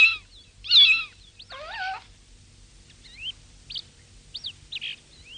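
A cat gives several short meows and chirpy mews, fairly faint and spaced apart, over a quiet background.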